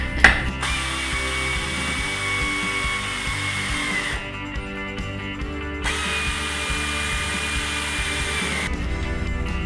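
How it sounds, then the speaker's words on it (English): An air ratchet snugs down the bolts on a beadlock wheel, its steady mechanical whirr running in bursts with brief pauses between bolts, loud and close. "you can use an air ratchet to snug them down"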